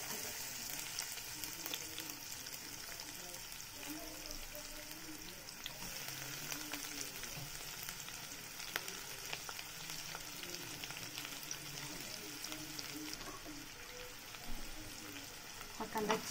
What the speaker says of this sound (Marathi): तेल घालून झालं की आपल्याला ह्याच्यामध्ये हा कट केलेला कांदा टाकून घ्यायचा।